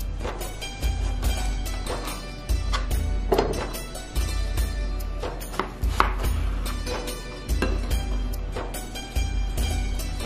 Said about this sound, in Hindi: केचप बनाने के लिए टमाटर हमने लिए हैं 1 किलो। सबसे पहले इन्हें काट लेंगे।